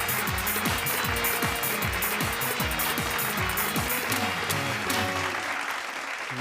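Loud audience applause at a Bhojpuri TV poetry show welcomes a guest onto the stage, steady dense clapping holding for several seconds with background music running underneath.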